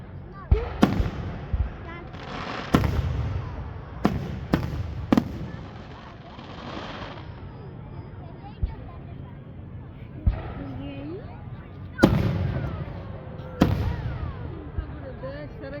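Fourth of July fireworks at Nara Park in Acton, Massachusetts boom and crackle in sharp scattered bursts, some near and loud, others more distant, over a steady crowd murmur with people talking throughout.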